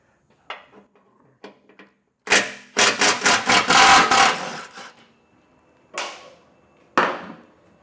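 A tool breaks loose the 15 mm skid plate bolts on a 2025 Ford Ranger. Sharp, rattling mechanical bursts come close and loud, with short taps early, a long buzzing run in the middle, and two more brief bursts after pauses.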